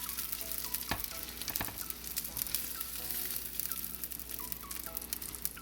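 Breaded chicken cutlets for chicken parmesan sizzle and crackle steadily in a frying pan of hot oil, a close, continuous frying hiss with occasional sharper pops and stirring clinks, no voices.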